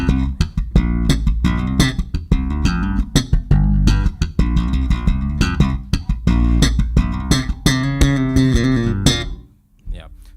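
Percussive, popping slap bass guitar notes fire in a busy, rhythmic groove with snappy attacks, ending abruptly in a short fading ring.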